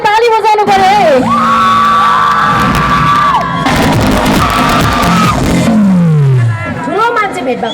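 An audience at a stage program bursts into cheering, whooping and applause midway to welcome a guest, framed by loud amplified voices before and after.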